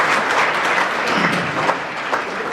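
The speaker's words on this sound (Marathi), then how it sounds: "सर्व डॉक्टरांचं कौतुक अभिनंदन त्यांच्यासाठी एकदा आधी टाळ्या वाजवूया" An audience at a doctors' graduation convocation claps loudly and steadily, a dense, even wash of applause close around the listener with no speech over it.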